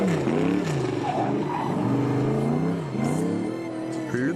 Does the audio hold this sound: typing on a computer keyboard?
no